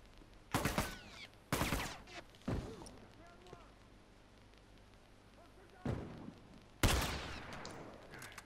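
Gunfire in The Last of Us, with several loud, separate shots spaced irregularly over a few seconds, and quieter game ambience between the blasts.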